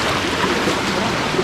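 Hill waterfall and rocky stream water rush in a dense, continuous broadband wash, steady and close.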